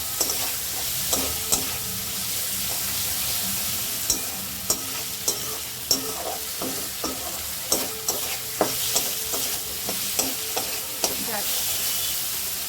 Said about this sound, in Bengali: আদাটাকে ভালো করে ভেজে নেবো।